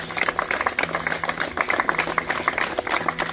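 An audience bursts into applause, a steady, dense patter of many hands clapping together that keeps going without a pause.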